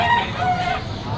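A bull stag rooster crows at a weekend poultry market in Malabon, one loud, close cock-a-doodle-doo cutting over a busy background of other fowl clucking.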